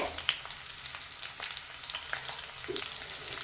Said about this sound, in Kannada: ಇದನ್ನು ಎಣ್ಣೆ ಒಳಗಡೆ ನಾವೀಗ ಚೆನ್ನಾಗಿ ಫ್ರೈ ಮಾಡಬೇಕು